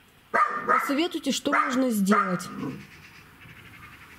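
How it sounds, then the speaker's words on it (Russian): A dog, apparently a former house dog, barks at pigs in a yard by the sea in a short run of clear, close barks and yips, with a person speaking over and after them. "Чего она лает на этих свиней?"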